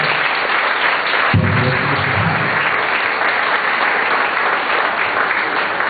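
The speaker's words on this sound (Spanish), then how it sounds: "Den un aplauso al Señor." Sustained applause from a church congregation at a worship congress gathering, dense and steady clapping throughout, loud and close, with a brief low rumble of voices or music partway through.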